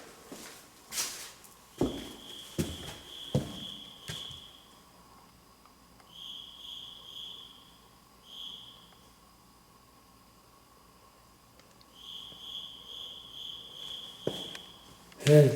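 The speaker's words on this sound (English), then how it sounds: "There's the cricket room." Crickets chirp inside an abandoned infirmary room, their high trilling coming in repeated bursts, with footsteps and handling noises early on in the quiet, echoing space.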